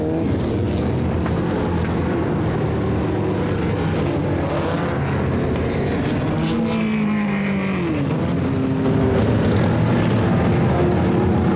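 SOMA modified race cars at Flamboro Speedway roar together in a loud, continuous engine drone with a rising and falling pitch as they pass, mixed with wind buffeting on the microphone.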